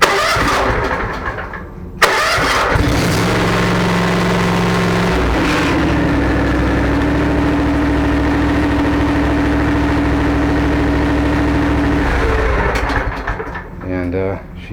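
A Ferris SW35 zero-turn mower with a 52-inch deck cranks over and fires up at once, then settles into a steady, close, loud idle that holds for several seconds before trailing off.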